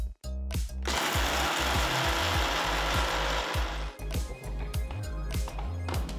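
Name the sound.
mixer grinder grinding roasted spices to powder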